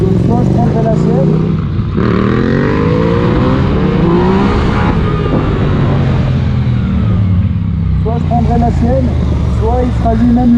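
A 2018 Yamaha MT-09 motorcycle engine revs and drops in steady waves throughout, loud and close, while someone talks over it in French.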